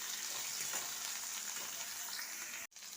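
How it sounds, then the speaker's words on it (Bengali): Soybean chunks and onion fry in hot oil in a pan, giving a steady, close sizzle with light stirring. The sizzle drops out for a moment near the end and then resumes. "আগে তেলে ভালো করে ভেজে নেব সোয়াবিনটা"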